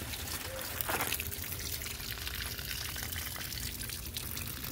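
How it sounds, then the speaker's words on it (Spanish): Water trickling and pouring out of a car engine during a head gasket flushing treatment, a steady dribbling stream at moderate volume, with a brief splash early on. "el agua ya salió limpiecita"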